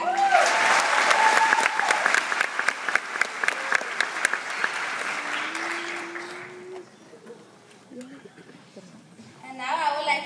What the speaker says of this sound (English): Another round of applause for the courageous Carver Cougar Band.